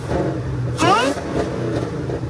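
A car engine fitted with a Roush supercharger and a JLT cold air intake revs up once in a single rising burst, set against a steady idle with a faint background voice.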